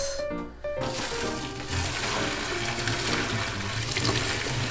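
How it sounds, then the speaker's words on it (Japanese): Murky scum water from boiled chiton is poured away into a sink, a continuous splashing, gurgling rush of liquid that stays fairly loud and steady throughout. "アクを捨てていきます。"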